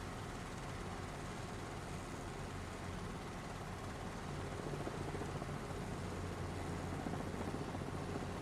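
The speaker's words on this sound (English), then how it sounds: "I think this little helicopter is one of the best helicopters as well in the game" A small helicopter flies in a video game, its rotor and turbine making a steady, continuous drone that holds at an even loudness throughout, with no talking.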